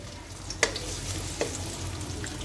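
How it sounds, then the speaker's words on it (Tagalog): Garlic sautéing in hot oil in a pan for Filipino bopis, a steady close sizzle with a couple of brief stirring clinks and no talking. "Igigisa ko na ang bawang."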